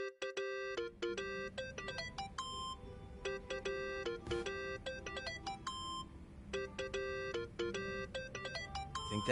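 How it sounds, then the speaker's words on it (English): A phone rings inside a video game, with repeated bursts of bright electronic ringtone tones in a steady pattern over low background ambience and music, loud and close, with no talking. "Think that's your phone"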